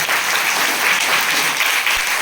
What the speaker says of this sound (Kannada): ದೇವರಾಗಿ ಚಪ್ಪಾಳೆ ತಟ್ಟೋಣ